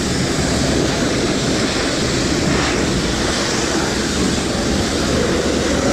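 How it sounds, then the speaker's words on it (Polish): A loud, steady hiss of hot water spraying from a washer roars continuously and evenly, close by, with no pauses. "Ale gorąca woda leci dobrze."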